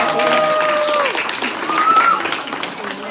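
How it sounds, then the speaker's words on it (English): An audience applauds Hominy, a child holding a tarantula at Gatorland, with dense clapping at steady strength across the moment, cheering voices and tonal calls rising above it. "Give Hominy a great big round of applause."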